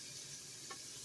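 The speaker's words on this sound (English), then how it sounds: "So, I got this frying." Crispy chicken bites fry in hot oil with a steady, close, hissing sizzle that runs evenly throughout, with one brief soft bubble or pop partway through.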